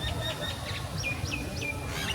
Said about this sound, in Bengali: অনেক সুন্দর পাখির ডাক এবং এক পাখির ডাকে মুখরিত এই